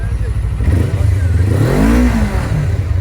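An RKS A250 motorcycle engine revs as the throttle is applied, rising to a loud, close mechanical roar that swells and falls away over a few seconds.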